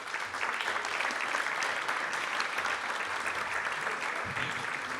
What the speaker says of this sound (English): Please give a warm round of applause to Mr. Anthony Daniels.